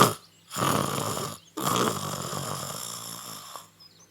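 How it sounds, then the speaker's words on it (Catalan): A sleeping lion snores in two long, deep, rumbling breaths, each starting abruptly after a brief silence, in a children's audio story about a lion at school. "Vaja, com ronca"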